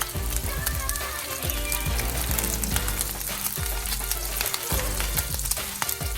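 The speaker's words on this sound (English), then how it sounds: "we need to fry off our cheese" Paneer cheese fries in a pan with a loud, dense sizzle and crackle, close and continuous, broken by occasional scraping and stirring sounds.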